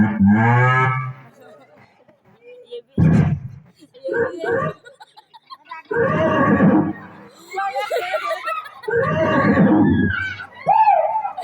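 Human voices in a stage drama imitate buffalo and cattle calls. Several loud, close bursts of lowing and bellowing are separated by short pauses, with some strained, whinny-like cries mixed in.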